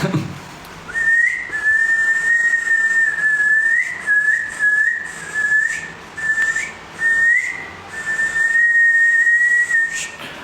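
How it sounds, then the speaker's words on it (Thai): A person whistles a long, steady, slightly wavering tone in repeated phrases with short breaks, fairly loud and close, with faint room noise behind. "มันคือผิวปากใช่ไหมแบบนี้"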